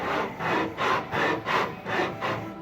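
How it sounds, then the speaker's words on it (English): Sandpaper on a straight scrap wood block rubs across wooden aircraft parts in the cockpit area of a wooden biplane build, making five even back-and-forth strokes, close and moderately quiet. "now I'm using a scrap piece of straight wood with some sandpaper on it"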